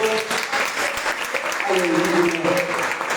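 Congregation applauding in a church service, a steady wash of clapping with voices calling out over it and a few sung or shouted tones rising above the applause.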